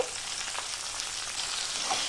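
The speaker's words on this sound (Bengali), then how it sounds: "গাজরটাকে একটু নেড়ে চেড়ে ভাজতে থাকবো" Carrot and capsicum stir-frying in a pan for chicken chowmein: a steady, fairly close sizzle of hot oil with a few soft stirring scrapes, heard alone without talk.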